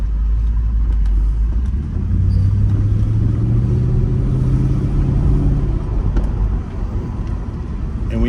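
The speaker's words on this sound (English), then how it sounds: "I love the growl, the natural sound of this supercharged V8." A deep, rumbling supercharged V8 engine of a 2003 Mercedes SL55 AMG growls at low revs nearby, with a slight rise in pitch as it idles and pulls.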